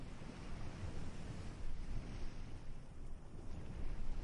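Sea waves wash in a steady, broad rush of surf mixed with wind buffeting the microphone, moderately loud and continuous, with no voices.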